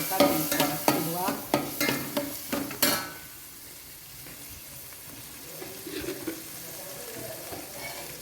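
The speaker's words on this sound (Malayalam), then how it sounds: "ഇത്തിരി എണ്ണയും കൂടെ ഒഴിച്ച് കൊടുക്കാം. നല്ലോണം ഇളക്കി കൊടുക്കാം." A squid roast is stirred in a pan with oil, giving a run of rhythmic spatula scrapes and clacks over a sizzle, then quieter, fainter sizzling with scattered clinks.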